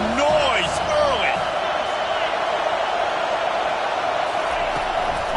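Football stadium crowd roaring in a steady, dense wash of noise from start to finish, with a commentator's voice riding over it near the beginning.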